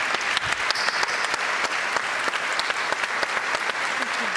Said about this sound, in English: I'm going to give them again a big applause, and I hope you will join me